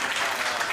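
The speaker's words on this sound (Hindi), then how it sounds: "तो एक बार ताली बजा दीजिए।" Brief burst of dense audience clapping at a Hindi comedy show, steady and close with no speech over it.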